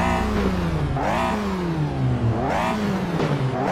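A Caterham race car engine at race start in a VR racing game, revving loudly in repeated rising and falling sweeps, close and alone with no talk.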